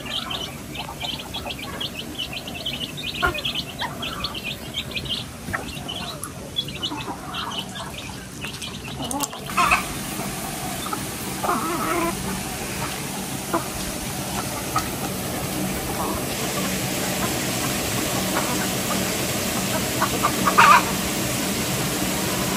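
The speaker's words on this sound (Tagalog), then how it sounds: "Dito po sa may loob ng kubi may mga sisiw pa po si Bossing." Inside a hut, chicks peep steadily while hens cluck now and then. The birds sound close and keep up a continuous chorus with no talking.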